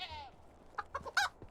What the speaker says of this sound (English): And these roosters are loud.